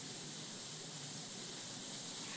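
A Stella Passione moka pot brewing espresso-grind coffee packed down tightly vents steam through its safety valve, producing a steady, quiet, broadband hiss that runs unbroken for a couple of seconds with no voices.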